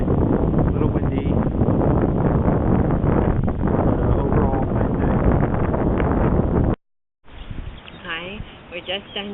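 Wind blows hard across the open ground of the Tijuana River estuary on a clear day, buffeting the microphone in loud, continuous gusts that cut out briefly, with speech underneath.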